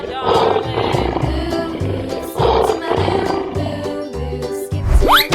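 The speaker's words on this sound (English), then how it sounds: "Lion." A cartoon lion gives loud, close roars in bursts over rhythmic background music, with a rising whoosh at the end.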